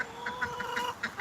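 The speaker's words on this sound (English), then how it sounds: "Or it might be a different rooster." A rooster or chicken gives a series of soft, rhythmic clucks, fairly faint and evenly spaced over about a second against light background noise.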